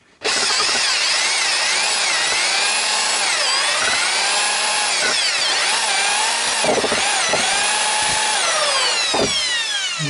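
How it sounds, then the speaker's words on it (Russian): A power drill with a thin 2-2.5 mm bit whines steadily and loudly at close range for about ten seconds, its pitch wavering as it bores into a VAZ crankshaft gear, with a few brief knocks near the end. "Попробую сверлить. Ставил я сверло, свою дрель."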